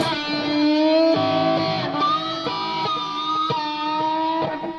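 Distorted electric guitar tapping with string bends and releases plays a sustained high-gain line, pitch rising and falling, sounding loud and close with an ambulance-siren-like wobble.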